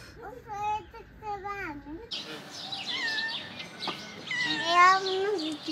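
A house cat meowing up close: several rising and falling mews in quick succession, with a person talking nearby and more calls later.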